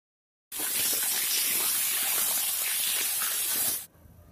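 Chopped flat beans, eggplant and carrot hit hot oil in a pan, giving a loud, steady hiss of sizzling that starts abruptly, holds for about three seconds, then drops sharply.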